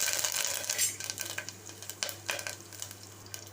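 Cumin, cinnamon, cloves and crushed garlic sizzle in hot ghee inside a cooker for sambar rice, a steady crackling fry punctuated by light stirring clatters and a low hum underneath.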